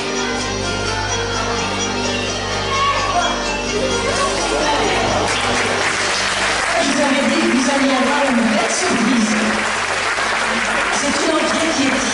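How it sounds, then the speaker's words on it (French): An audience at a gala applauds a performance by four young girls, a loud continuous roar of many hands clapping, with a voice talking over the applause partway through. "on peut les applaudir bien fort"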